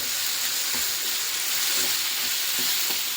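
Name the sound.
frying ground avare bean paste in a pan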